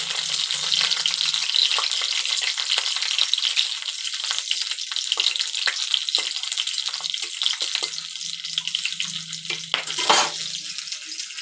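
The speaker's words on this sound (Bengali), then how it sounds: "রসুনটা দেওয়ার পর দিয়ে দেব লঙ্কাগুলো। হালকা ভাজা ভাজা করব।" Garlic and green chillies fry lightly in hot oil in a wok, a bright continuous sizzle broken by scattered pops and a sharp crackling burst near the end, with faint scraping of stirring underneath.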